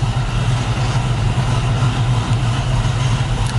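A 1969 Chevrolet Camaro engine idles steadily just after starting, with a loud, even low rumble that holds without change from start to end.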